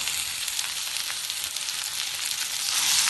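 Chopped onions and tomatoes sizzle steadily in a hot pan while being stirred and sautéed, a continuous bright frying hiss with light scraping, moderately loud and close, with no talk.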